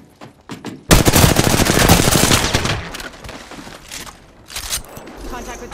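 Heavy automatic gunfire from an enemy squad in the battle royale game Apex Legends, loud dense bursts after a few short shots, then tapering into scattered sporadic fire and clatter.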